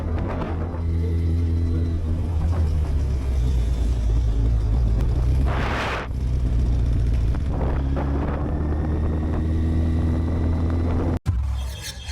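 A motorcycle riding at night, with a steady loud engine rumble and heavy wind noise throughout, a brief whooshing swell midway, and a sudden sharp knock near the end.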